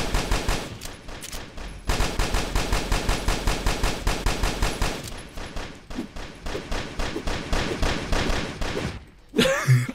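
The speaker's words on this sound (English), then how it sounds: "I just gave up trying to shoot him." Rapid bursts of automatic gunfire from the video game CubeZ, a loud, dense stream of shots with brief pauses, continuing for about ten seconds and ending in a short thud.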